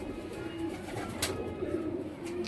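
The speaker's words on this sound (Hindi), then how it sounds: "ये फुलसरा देखो पास में, बहुत कबूतर है" Pigeons coo softly in a pigeon loft, low murmuring calls repeating under a steady background hum, with a few faint clicks and rustles and no talk.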